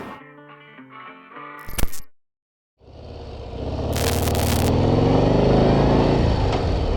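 A Harley Davidson Street Bob 117 motorcycle rumbles loud and close; after tonal beeps and a clunk, the engine fires after a brief silence and swells into a deep, building rev that holds strong.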